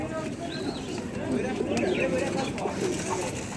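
Pigeons coo softly in the background of a noisy bird market in Halkalı, Istanbul, early in the morning, while people talk nearby.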